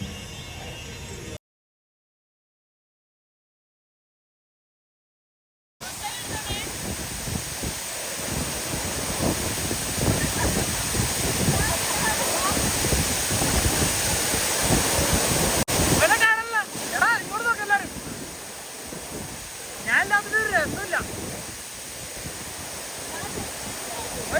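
Anayadikuthu waterfall, a loud continuous roar of falling water close by, steady throughout after a brief dropout, with wind buffeting the microphone and occasional voices.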